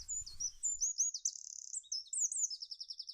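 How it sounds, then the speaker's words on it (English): Baby chicks freshly hatched from eggs cheep in a rapid run of high, thin chirps, close and clear with nothing else behind them. "Cheep, cheep, cheep. They have hatched."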